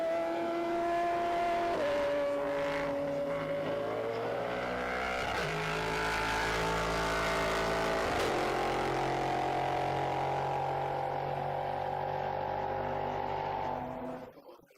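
Endurance race cars in D4 GT, D5 and SCC classes sweep through a corner at Brno circuit, engines loud and near, with shifting gear tones as they brake and then accelerate away before the sound cuts off.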